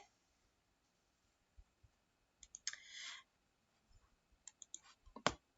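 Scattered faint clicks of a computer mouse, including a click on a Submit button while filling in an online reservation form, quiet and close against near silence.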